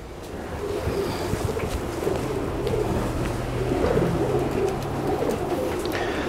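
Teddy pigeons coo softly in low, throaty murmurs, running steadily under a constant hiss of outdoor ambience with no talking.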